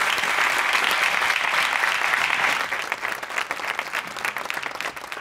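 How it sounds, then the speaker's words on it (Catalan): Audience applause at a live debate event: a dense, steady burst of many hands clapping that fills the room, easing slightly in volume partway through but continuing to the end, with no one speaking over it. "El podeu aplaudir, eh?"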